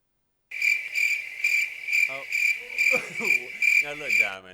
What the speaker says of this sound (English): You cannot play the crickets now.